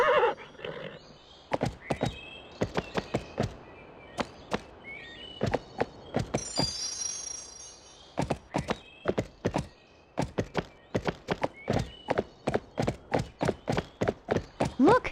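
Horse whinnies and rapid hoof clip-clops ring out from a horse ridden through a forest in the PS2 game Barbie Horse Adventures: Wild Horse Rescue, with close, steady hoofbeats speeding into a quick gallop rhythm alongside occasional neighs.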